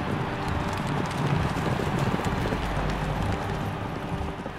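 Horses gallop in a dense, continuous thunder of hooves pulling chariots at a Roman chariot race, loud and close with a broad rumbling wash and no voices.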